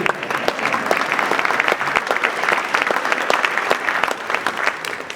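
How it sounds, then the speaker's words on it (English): Steady, dense applause from a sizeable crowd at a birthday party, many hands clapping continuously at an even level throughout. "let us all give you another big round of applause and thanks for all you've done"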